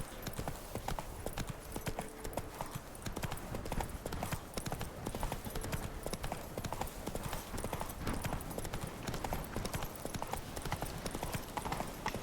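Hooves of Roach, the horse in The Witcher 3, clip-clop in a steady, continuous galloping rhythm, close and fairly quiet, with a soft whinny-like texture at moments and no talk over it.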